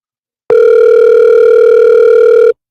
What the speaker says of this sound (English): You can't even answer your phone when it's storming